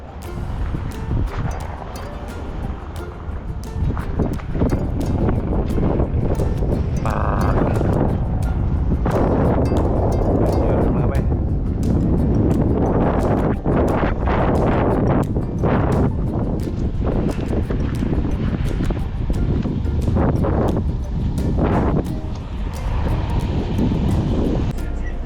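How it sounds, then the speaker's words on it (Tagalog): Steady, blustery wind rushes outdoors and buffets the microphone, with a low rumbling undertone and no voices. "Malamig pala ang simoy ng hangin."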